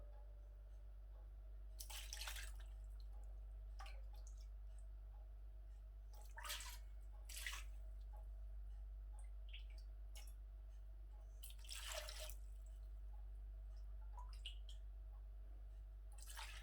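Meat broth (yakhni) is poured into a pot of Kabuli pulao, giving a few separate quiet splashing gushes over a low steady background hum.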